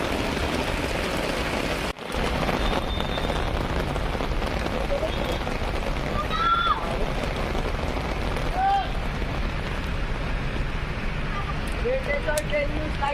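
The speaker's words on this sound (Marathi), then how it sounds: "पावसाच्या सरी पण बरसरत आहेत." Heavy rain pours down in a steady, dense roar that stays constant throughout, with no distinct thunderclap standing out.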